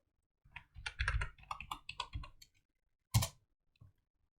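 A password is typed on a computer keyboard in a quiet room, a quick run of soft, close key taps, then a pause and a single firmer keystroke like Enter, with one last faint tap.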